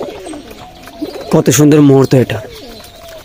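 Pet pigeons coo softly while feeding, with one louder burst of cooing close by, as someone speaks briefly over the birds.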